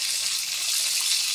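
Fish sizzles in a hot pan as it finishes frying, a soft, steady crackling hiss with no voices.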